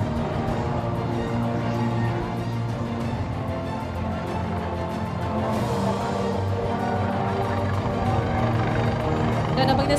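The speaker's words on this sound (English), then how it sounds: "So as we can see now, Dolphin AS365 entry helicopter is headed to the location." A steady, continuous Dolphin AS365 helicopter drone with throbbing rotor texture fills the whole stretch at a constant moderate level, with a faint voice beneath, at a Malaysia Coast Guard display at LIMA 2023, Langkawi.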